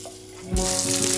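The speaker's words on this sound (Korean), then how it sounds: "감자를 튀기듯이 볶다가 겉면이 노릇해지면" Potatoes hit a hot pan and start stir-frying with a sudden loud, bright sizzle that continues steadily.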